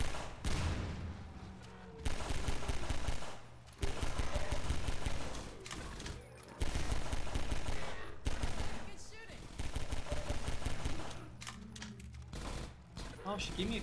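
Bursts of gunfire from the video game Half-Life 2 Episode One, with rapid automatic fusillades and shots in repeated clusters, loud and continuous through most of the stretch, while a voice talks in places.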